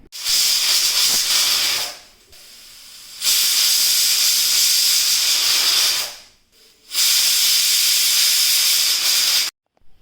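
A loud, steady hiss of escaping steam from a pressure cooker cooking chana dal comes in two long bursts with short quiet gaps between them, close and harsh.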